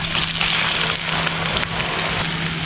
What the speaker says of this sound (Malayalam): ഇതിലേക്ക് നമ്മുടെ ഒനിയൻ ഇട്ടിട്ട് ഒന്ന് വറുത്തെടുക്കണേ